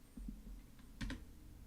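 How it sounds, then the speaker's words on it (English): A few quick, soft computer keyboard keystrokes, close by and faint against a low hum, with a small double tap near the end. "Is it the live typing"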